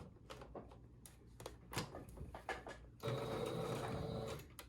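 Sewing machine back stitching along the edge of thrifted fabric, a few short bursts of mechanical whir and clicks followed by a steadier run of stitching, close and fairly quiet.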